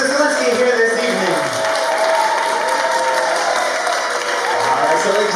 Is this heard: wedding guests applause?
yes